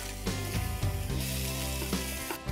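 Vegetables tossed with crumbled dried mixed herbs in a hot pan over a flame, a continuous sizzling hiss with soft scraping stirs, loud and close.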